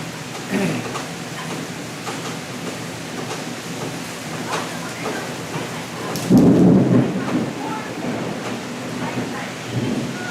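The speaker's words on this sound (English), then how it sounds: "More thunder." A thunderstorm during a Zwift indoor cycling ride, with steady heavy rain throughout and a deep rolling thunder rumble swelling loudly midway before fading back into the downpour.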